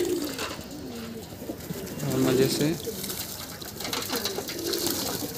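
Pigeons cooing softly while bathing in water, with splashing and fluttering, and someone talking over them throughout.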